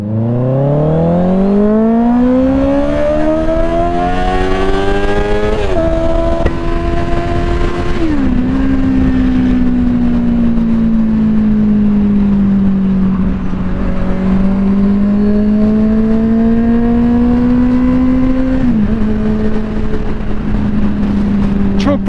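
A Honda CBR650R motorcycle engine revs hard and high, its pitch climbing then holding at a loud, sustained scream with brief shifts between gears.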